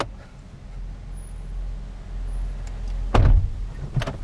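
Inside a Hummer H3T truck with a low engine rumble, a car door thumps shut with a heavy clunk, followed by a smaller knock a moment later.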